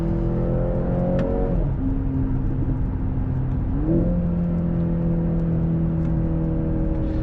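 The 2-liter engine of a 2024 Mercedes-AMG C63 S pulls hard during a test drive, with a steady engine drone heard from inside the car and two quick gear shifts where the pitch drops, then climbs again.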